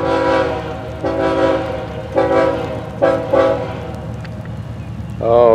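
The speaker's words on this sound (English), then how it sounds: "That train is creeping tonight, Walter." Train FEC101, moving slowly, sounds its horn in several long blasts separated by short gaps, loud and fairly close, over a low rumble as it passes.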